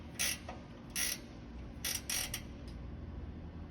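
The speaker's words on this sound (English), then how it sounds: "if you have a ratchet wrench or potentially a really shallow socket and ratchet" Quick ratcheting clicks from a ratchet wrench snugging a front bumper bolt on a 4th gen Toyota 4Runner come in several short bursts, with a low steady background hum and no talk.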